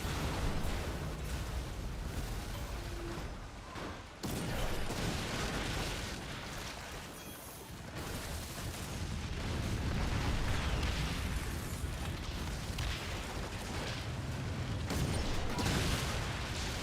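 Cannon fire and explosions from the naval pirate game Skull and Bones, a dense, continuous roar of booming blasts and crackling bursts lasting throughout, with a brief dip partway before the barrage resumes loud and sustained.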